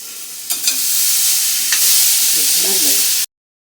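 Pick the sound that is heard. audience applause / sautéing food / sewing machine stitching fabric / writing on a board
sautéing food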